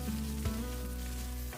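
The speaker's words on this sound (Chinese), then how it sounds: "炒至辣椒有一点变色以后，下入鸡翅，先简单炒一下，炒匀" Chicken wings and dried chilies stir-fry in a wok, giving a steady, dense sizzle close up with faint scrapes of stirring and no voices.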